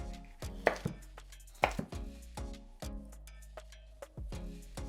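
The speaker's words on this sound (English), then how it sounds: "I'm going to cut the green pepper in square. I'm going to do the same with the red pepper." A knife chopping green and red peppers into squares on a cutting board for a Uyghur lamb stew, with irregular crisp knocks at close range, some heavier strokes among lighter taps.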